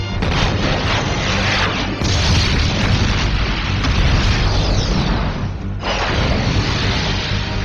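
Loud, dense blasts and rumbling booms fill a battle scene from the Ultraman Nexus TV show, with gunfire and explosions layered continuously and barely pausing throughout.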